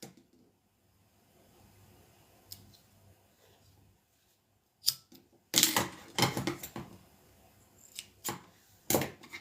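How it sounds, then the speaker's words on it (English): Scissors snip little loose pieces off a woven crossbody bag strap, a quiet opening followed by a cluster of sharp close cuts and clicks, several in quick succession and a few more spaced apart. "Just gonna trim these little pieces."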